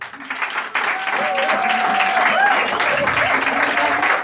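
Applause from an audience at a hairdressing school graduation ceremony, steady and sustained through the clip, with cheering voices and talk over it.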